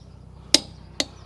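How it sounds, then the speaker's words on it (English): Two sharp metallic clicks about half a second apart from a torque wrench reaching 140 while tightening lug nuts on a 2014 Sierra, close and clear over a low steady hum. "The way this torque wrench works is it's gonna tighten up. When it gets to 140, it's gonna click."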